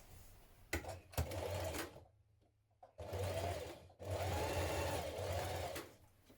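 Sewing machine stitching a seam on summer dress fabric: loud, steady motor whir in bursts, broken by short pauses and a brief quiet gap, with a few clicks at the starts.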